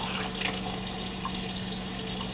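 Low-flow water running from a low-spout faucet, a steady soft hiss of water at close range, continuous and alone for a couple of seconds.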